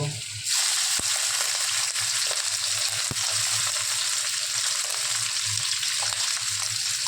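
Prawns hitting hot oil already reddened with bay leaf and chilli powder for chingri dal, a sudden loud sizzle that erupts and then holds as a strong, steady crackling hiss, with a few sharp ticks.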